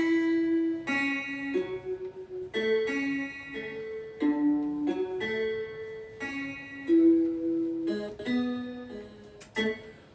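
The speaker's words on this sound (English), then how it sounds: "So I added this guitar melody, and the guitar sounds like this." A plucked guitar melody of clean, ringing single notes plays a simple repeating phrase inside a beat, fairly quiet and steady, with no voices over it.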